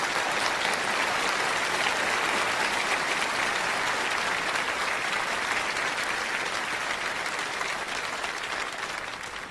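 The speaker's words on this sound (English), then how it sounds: "Give yourselves a round of applause for changing people's lives." A big motivational-event audience applauds in a thick, unbroken burst of clapping that stays loud and full for nearly ten seconds, tapering slightly at the end, with no talking.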